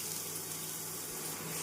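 Chopped onions sizzling in hot oil with mustard seeds, cumin and fennel for a South Indian tomato kuzhambu, a steady, soft hiss that carries through the whole stretch.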